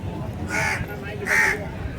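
Two loud, harsh caws from a crow at Gandhi beach in Pondicherry, spaced under a second apart over a constant beachfront background hum.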